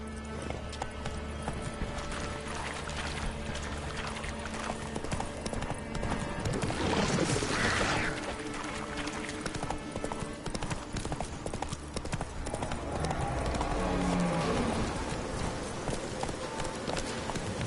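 Hooves of the horse Roach gallop in The Witcher 3, a steady clip-clop running under continuous game ambience, with a neigh rising briefly near the middle and a voice urging the horse on.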